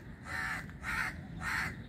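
Crows caw three times in an even rhythm beside a stream of dirty flowing water, the harsh calls fairly close and standing clearly over a low background rumble, with no talking.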